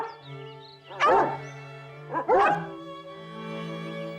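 Two sharp barks from a black dog in a children's cartoon, spaced about a second apart and fairly close, over a soft sustained musical background.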